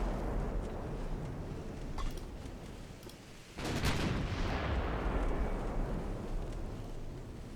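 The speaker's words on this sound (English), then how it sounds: "I'll fire until the guns are dry" Heavy naval guns boom from battleships in Ultimate Admiral Dreadnoughts, with a deep rumbling blast followed by a long rolling roar over constant loud background noise and scattered sharper reports.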